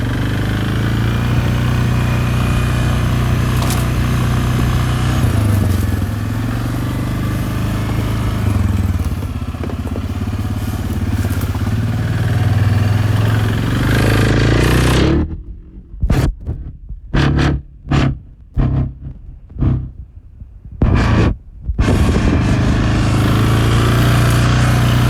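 A four-wheeler engine runs steadily up close with a low throbbing drone, then cuts in and out in several sharp breaks near the end.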